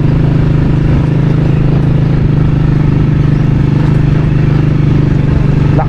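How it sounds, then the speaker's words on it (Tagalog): A motorcycle engine idles loudly and close by, holding a steady droning hum with a rattly texture for the whole stretch, with no talk. "Lakas ng motor parang wala lang ah."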